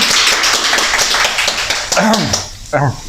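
Studio applause for a guest on a chat show filmed at a tantuni shop counter. A crowd's clapping is loud and steady at first, then fades as voices talk and laugh over it.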